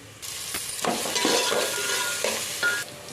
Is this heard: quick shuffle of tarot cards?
no